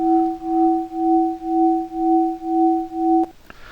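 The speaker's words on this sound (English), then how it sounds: "here's our low frequency oscillator" A steady synthesizer tone with a slow, even pulsing swell, about seven regular throbs, then it cuts off abruptly with a click.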